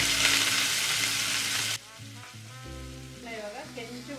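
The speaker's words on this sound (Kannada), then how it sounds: "ಇವಾಗ ಕೆಂಚು ಹುರ್ಕೋಬೇಕು ಈರುಳ್ಳಿನ" Chopped onions go into hot tempering oil with cinnamon, cloves and cumin for palak paneer, producing a loud, close, hissing sizzle that suddenly drops to a quieter crackle with stirring scrapes.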